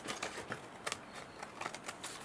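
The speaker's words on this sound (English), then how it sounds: "we're just going to trim" Paper being trimmed for handmade Christmas card notelets, a soft run of quick, dry scraping and snipping strokes, close and quiet, with no voices.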